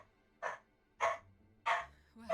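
A dog barks in the video game Final Fantasy XIV, three clear, evenly spaced woofs about half a second apart, fairly close and alone, with a fourth starting at the end.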